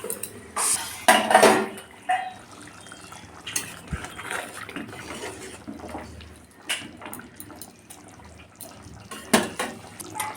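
A metal cooking pot for a paneer cheese gravy clanks as a lid goes on, with sharp pan and utensil knocks and a splash of added water, close and intermittent.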